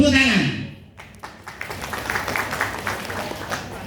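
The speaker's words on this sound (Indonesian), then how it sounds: "Tepuk tangan." An audience of Islamic religious education teachers at a talk breaks into scattered, light applause after a short burst of voice, the clapping quiet and somewhat distant as it continues to the end.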